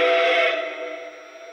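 Lionel Legacy 1630 Frisco Decapod model steam locomotive whistle, a single chime-like steam whistle tone that starts loud and then fades away over about a second.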